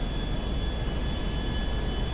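Steady engine drone from inside the world's largest airplane in GTA 5, a continuous roar that neither rises nor fades, with no voices over it.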